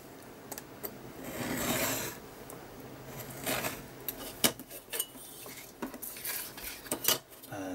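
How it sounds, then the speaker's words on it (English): A surgical scalpel used as a craft knife slices out a photograph for a vintage cabinet card, giving soft scraping and rasping strokes with several sharp ticks and taps, close and fairly quiet. "will just quickly cut this photograph out. Just using my craft knife. I'm using a surgical scalpel"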